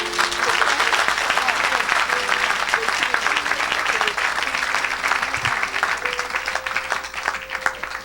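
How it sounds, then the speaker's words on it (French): A church congregation claps steadily and loudly, with scattered cheering, for several seconds at a French-speaking evangelical service, while a preacher's voice carries faintly through the applause. "Est-ce qu'on peut acclamer pour Jésus?"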